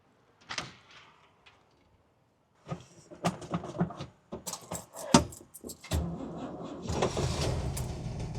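A 1973 Toyota FJ Land Cruiser is started after a few key and door clatters: a crank catches and settles into a steady, fairly loud running rumble that lasts to the end.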